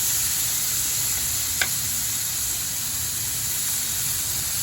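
Pork for menudo sizzling in a pan, a steady broad hiss with a faint crackle, one brief sharp tick near the middle, no voices.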